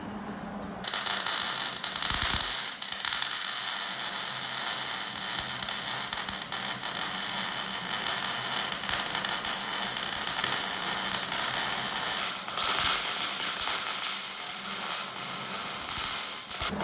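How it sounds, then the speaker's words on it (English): Welding on a 1971 Plymouth Duster: a continuous, loud, close hiss and crackle of the arc that runs steadily without pauses, with a brief break near the start. "Now, weld the whole thing up."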